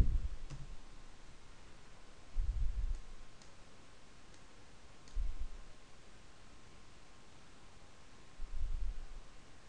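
Soft mouse clicks sound while a software package is installed on Linux Mint 15, coming as sparse single taps a few seconds apart over faint steady hiss.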